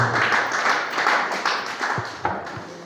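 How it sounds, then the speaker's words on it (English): Classroom clapping for a student at an awards ceremony, a steady spread-out patter of many hands close by, with a few sharper individual claps near the end. "Clap for her."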